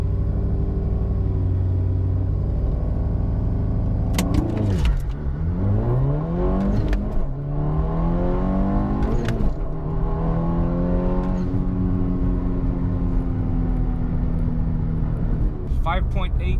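An AWD-converted 260 HP hot hatch launches from a dead stop for a 0 to 60 run, its engine revving hard and sweeping upward through several quick gear changes, loud and close from inside the car.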